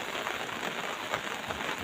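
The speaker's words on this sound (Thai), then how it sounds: "ฝนตกแล้ว" Morning rain falls steadily in a broad, even hiss with no breaks or voices.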